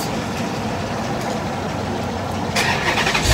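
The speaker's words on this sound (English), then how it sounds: "gonna crank up the car while I'm pumping gas?" A car engine turns over and rumbles steadily at a gas station during refueling, with a brighter surge near the end and no talking.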